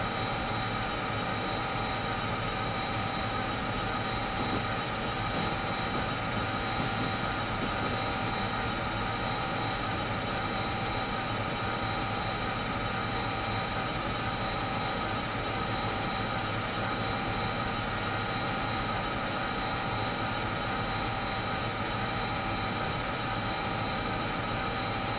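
A locomotive in a train video game drones steadily with a continuous engine hum and rumble, even and unbroken, with no voices.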